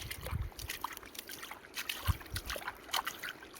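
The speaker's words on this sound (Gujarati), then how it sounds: "કેવું સરસ મજાનું પાણી મોલમાં જાય છે, જોઈ શકો છો મિત્રો" Irrigation water trickles and sloshes steadily into a crop field at close range, with soft splashes and faint gurgling over a low, uneven background.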